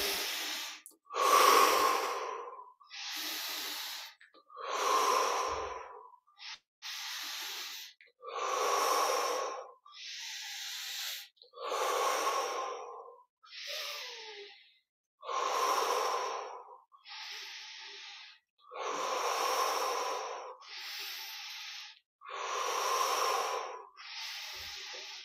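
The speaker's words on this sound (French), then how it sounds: "On inspire par le nez," Slow, deep breaths repeat about a dozen times in a quiet room, each one a close, audible airy rush in through the nose and out through the mouth, separated by short silences.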